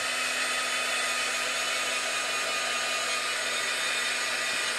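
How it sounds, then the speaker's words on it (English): A heat tool blows steadily while drying Mod Podge on a faux-varnished frame, a constant close whirring hum of motor and airflow with no breaks. "when you're using the heat tool to dry this, make sure you're not getting too close"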